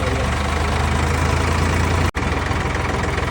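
A steady, low tractor engine idling close by, a constant rumble with a brief dropout near the end and no talking.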